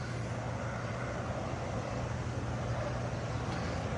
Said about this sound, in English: The helicopter is flying above me.